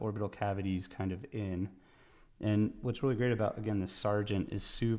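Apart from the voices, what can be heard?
No everyday noises stand out.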